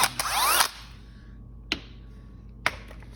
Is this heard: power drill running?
yes